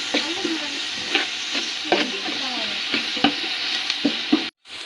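Onions sauté for biryani while being stirred in a pan, giving a steady close sizzle broken by repeated scraping strokes of the spoon roughly every second.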